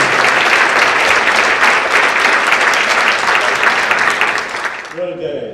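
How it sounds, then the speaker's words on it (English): Audience applause for award winners at a 2017 successes celebration, a loud sustained crowd clapping that fills the room and then cuts off, leaving a voice beginning to speak. "Let's give a round of applause for our winners."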